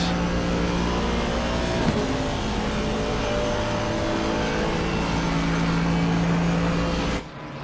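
An Aston Martin race car engine in a sim racing game at Paul Ricard, heard from onboard as a loud, steady drone with a shift around two seconds, then a sudden drop near the end.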